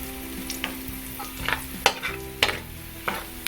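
Chopped onion added to garlic already golden brown in a hot pan for ginisang Baguio beans with beef, sizzling steadily with scattered sharp clicks and scrapes of stirring, close and alone without talk.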